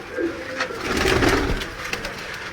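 A pigeon coos close by at a bird seller's in Sialkot, a soft throaty warble rising and falling over a couple of seconds amid faint background noise.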